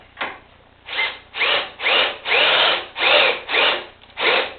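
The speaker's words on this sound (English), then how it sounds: "I drill 4 holes that are about, they're half inch" A power drill bores half-inch holes at an angle into a wooden carpenter bee trap, with eight close, loud grinding bursts in a steady rhythm and brief pauses between them.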